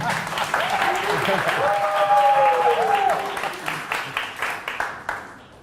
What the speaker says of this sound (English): I think that a round of applause again.